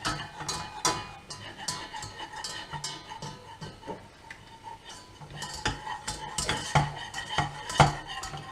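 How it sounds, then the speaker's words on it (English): Metal whisk clinking and scraping against a pan while stirring a dauphinoise potato sauce, a busy run of sharp taps and rattles with louder clanks near the end, no talking. "I'm going to find a whisk."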